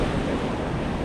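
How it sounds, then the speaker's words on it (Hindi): Sea waves washing in at Paradise Beach in Pondicherry make a steady, broad roar with no break, mixed with some wind rumble and no voices. "ये समुंदर है और यहाँ से हम लोग इस वे के थ्रू आगे जाएंगे।"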